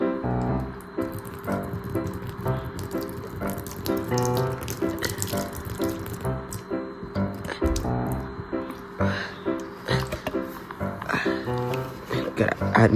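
Water runs steadily from a tap with splashing and dribbling, close by, while a person talks over it.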